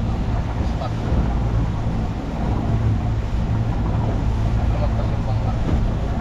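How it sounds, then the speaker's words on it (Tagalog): A passing boat's motor drones steadily nearby over lapping water and wind during live-bait fishing, with a voice speaking briefly over it. "Palagpas yung bangka."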